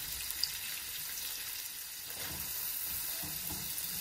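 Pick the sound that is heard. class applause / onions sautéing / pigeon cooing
onions sautéing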